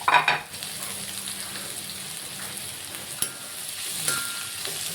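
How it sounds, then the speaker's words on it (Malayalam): Onions and green chillies sautéing in coconut oil give a steady, soft sizzle with a brief louder burst at the start, then an even frying hiss throughout. "സവോള, പച്ചമുളക് ഇട്ട് വഴറ്റുക."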